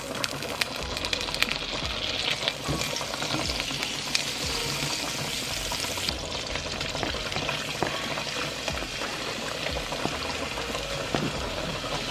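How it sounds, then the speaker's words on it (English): Butter, onions and ground beef sizzle and sauté in a pan, with a steady crackling fry and occasional scraping, close and continuous throughout with no talking. "now I'm going to go ahead and add the butter and the onions and saute that until they're nice and browned"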